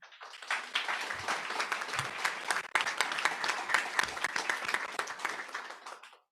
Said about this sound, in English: We'll hold our applause to the end.